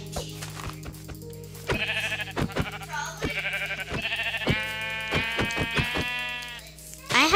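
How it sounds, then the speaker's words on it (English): Sheep in Minecraft bleat repeatedly, with overlapping calls and sharp clicks scattered through the stretch, all heard up close. "I have so many sheep."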